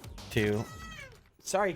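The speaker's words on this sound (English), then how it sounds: "Yeah, cat. that was the cat." A pet cat lets out an angry, drawn-out meow at close range, with a second shorter meow near the end, while a person speaks briefly before and between the cries.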